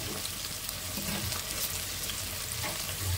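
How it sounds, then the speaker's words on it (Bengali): Begun chop, battered eggplant slices, bubble in hot oil, producing a dense, continuous hissing sizzle, loud and close, without any speech over it. "আর এদিকে বেগুন চপটা ভাজা হচ্ছে।"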